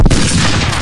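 A gunfire sound effect in a narrated Tex Willer western comic: a loud, close burst of shots with a sharp opening crack followed by a dense rumbling wash, under a second long.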